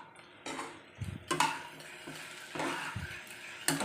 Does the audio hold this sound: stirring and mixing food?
yes